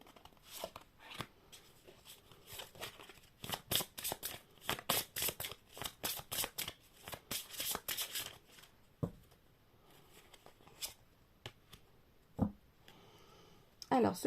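Tarot cards are riffled and shuffled in quick crisp bursts, followed by softer isolated flicks and slides as cards are drawn, close and fairly quiet.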